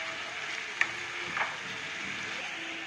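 Onions frying in oil in a pan give off a steady, even sizzle, with a couple of faint clicks partway through and no talking.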